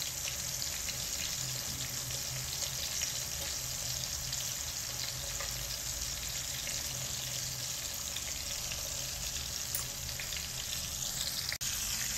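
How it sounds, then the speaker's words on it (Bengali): Fish sizzles steadily in hot oil in a pan for an Arabic-style fish and potato curry, a continuous close crackling hiss that runs alone throughout, with a sharp click near the end. "মাছ ভাজি হইতে আছে, এখনো কিন্তু হয় নাই, আর একটু টাইম লাগবো।"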